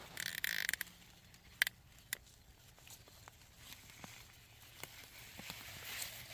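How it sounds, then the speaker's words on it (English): Plant roots snapping off in rain-softened soil as a shovel is driven in near the base of a stalk: sharp, brittle cracks and pops, several in a scattered series, close and fairly faint against a quiet outdoor background. "You can still hear roots snapping off as I do that."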